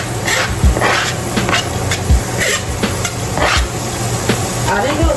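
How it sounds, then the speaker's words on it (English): Peppers for fajitas sizzle loudly in a hot pan while being stirred, with steady frying crackle broken by repeated scraping and knocking strokes of the utensil. "And then we add our peppers."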